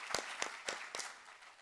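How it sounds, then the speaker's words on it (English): Sparse claps from a small audience at a spring student demo day, a few distinct hand claps spaced out over a second and a half, quiet and fading. "Can we have another round of applause for him?"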